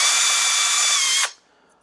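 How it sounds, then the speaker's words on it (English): Power drill boring a 15/64 inch hole in wood for a whittled toy, a loud steady high whine running continuously, then stopping abruptly as the motor cuts off and spins down. "a power drill."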